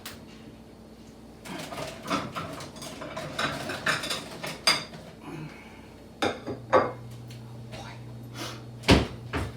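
A baking pan is pulled from a kitchen cupboard while making a chocolate Texas sheet cake, with cupboard thuds, metal clatter and clinks spread over several seconds, a few sharp bangs near the end.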